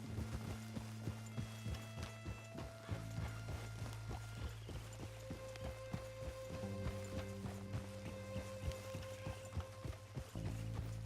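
Horse hooves clip-clopping at a steady, driving gait in the Western video game Red Dead Redemption 2, close and rhythmic over a low game soundtrack, with occasional snorts.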